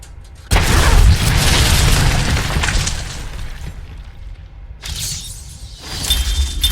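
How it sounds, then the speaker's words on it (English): Fireworks in the video game Batman Arkham Asylum set off after defeating Ivy: a loud burst of booming, crackling explosions that sustains, thins, then flares again near the end, with no talking. "Upon defeating Ivy, I was granted with an achievement and a bunch of fireworks."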